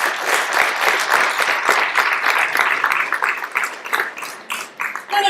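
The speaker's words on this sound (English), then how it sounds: "applause for our voter support group" Applause from a crowd at a monthly meeting, steady dense clapping throughout at moderate volume, with no voices over it.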